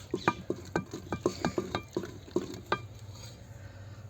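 Tempering for saag (mustard greens) crackles in a pan with irregular pops and spatters, about a dozen sharp bursts in quick succession, then fading to a quieter background hiss.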